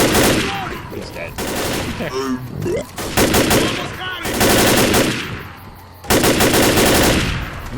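Rapid bursts of gunfire in the Left 4 Dead video game, loud and dense, coming in several sustained volleys separated by brief pauses, with a faint voice occasionally underneath.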